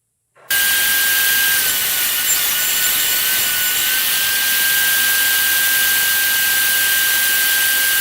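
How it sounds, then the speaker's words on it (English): A table saw cuts dado tracks into panels, a loud steady whine starting abruptly and holding continuously close up, with no talking. "I'm going to use my table saw, and I'm going to do some dado track cuts into these panels here"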